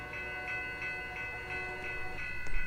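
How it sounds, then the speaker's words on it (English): A steam locomotive, number 761, pulling an Amtrak train through a Roblox game world, its steady horn-like tone pulsing in regular beats over a low rolling rumble, with a sharp clank near the end. "Here comes the air mole train. So this is a steam locomotive 761."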